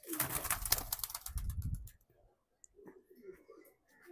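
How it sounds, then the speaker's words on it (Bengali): Loud rustling and fluttering in a cage, then soft low pigeon coos from close by, with faint scattered chirps. "এই তো আমার কবুতরগুলো উঠতেছে"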